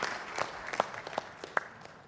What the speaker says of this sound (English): we ought to give ourselves a round of applause for what we have achieved today